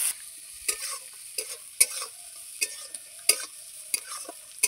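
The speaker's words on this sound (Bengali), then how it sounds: "এখন ভালো করে আমি লাল করে ভেজে নেব।" Chopped onion, garlic, slit green chilies and five-spice tempering fry in a pan, a quiet sizzle punctuated by regular scraping strokes of a spatula about every half second, close and without voices.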